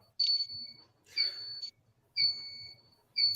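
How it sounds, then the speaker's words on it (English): A smoke alarm beeps over burned churros, giving four evenly spaced, shrill, steady tones of about half a second each with brief gaps, clear and fairly close. "The alarm went off."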